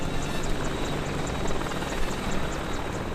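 An Apache attack helicopter of the Indian Army flies nearby with a loud, constant roar and a rhythmic rotor thump running steadily throughout.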